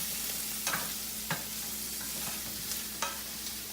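Food fries in a non-stick skillet with a steady, soft sizzle, broken by a few sharp scrapes and clicks from stirring spaced a second or so apart.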